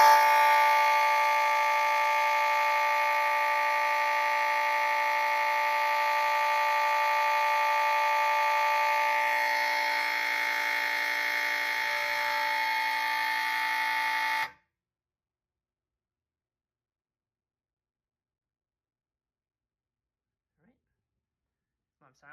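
A Gamewell Zans 200 fire alarm panel sounds continuously, uncoded, through an FCI HP horn mounted behind a Space Age AV32 light plate, a loud steady blaring tone for about fourteen seconds before cutting off abruptly into near silence.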